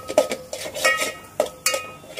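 Masala and grated coconut being sautéed in a pan for a Boit mullet fish curry, with a spoon scraping and knocking against the metal in a few sharp, irregular clinks and no talking.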